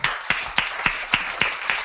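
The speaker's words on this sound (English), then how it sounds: "Round of applause" A small audience at a hackathon keynote claps, heard as a thin, sparse scattering of hand claps with distinct sharp slaps roughly every quarter second rather than a full roar.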